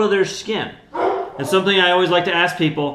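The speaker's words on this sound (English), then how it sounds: "you can hear my dog in the background." A pet dog barks and yips in the background of a snake-keeping household while a person talks over it, the barks recurring through the short stretch.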